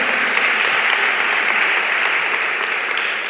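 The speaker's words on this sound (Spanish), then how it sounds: "Un aplauso para la compañera." Warm, sustained audience applause at a women creators' event on intersectionality and artificial intelligence, with many hands clapping evenly and densely and no voice over it.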